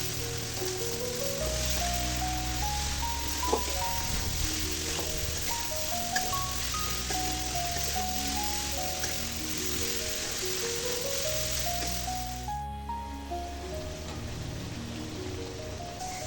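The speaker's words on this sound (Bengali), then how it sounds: "কষানো মশলার ভিতরে লাউ ঢেলে দিলাম।" Bottle gourd hits sizzling fried spices in a pan for a home-style rohu fish curry, a steady broadband crackle and hiss running under continuous melodic background music.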